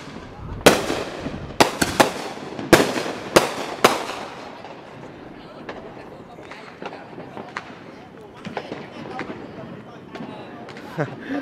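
New Year fireworks set off by neighbours: a run of loud, sharp bangs in quick clusters, then fainter, more distant pops and crackles, with someone talking throughout.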